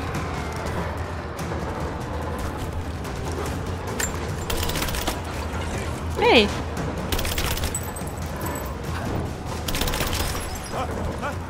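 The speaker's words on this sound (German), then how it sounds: "Es wird noch fleißig geschossen. Sehr fleißig." In Rise of the Tomb Raider, game gunfire cracks out in scattered sharp shots and short bursts against a steady background. Someone talks over it and gives one brief shout.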